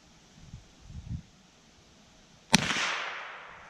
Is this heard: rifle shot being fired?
yes